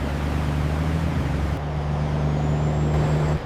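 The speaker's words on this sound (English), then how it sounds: "The flatbed finally arrived at the restoration house." A flatbed truck carrying an old Caterpillar 420D backhoe rolls along with a steady, droning low engine hum, loud and close, then a short hiss and faint rising whine before the sound cuts off at the end; no talking.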